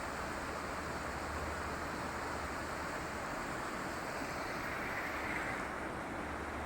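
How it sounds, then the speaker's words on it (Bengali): A jungle stream's current flows past in a continuous, even rush of water, close and steady with no talk, wind-like hiss blending into the flow. "সুন্দর একটা পানির শব্দ"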